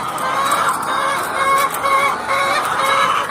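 RTL chickens on a farm clucking steadily and close by in a morning coop chorus, with overlapping calls and no talking.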